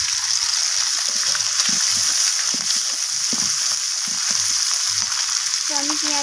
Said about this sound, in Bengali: তো আমি পেঁয়াজটাকেও লালচে করে ভেজে নিচ্ছি।